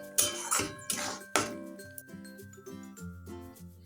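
A spoon scrapes and clinks against a pan while spice masala with peas is stirred for matar paneer, a few loud knocks at first, then softer taps and a faint ringing tone.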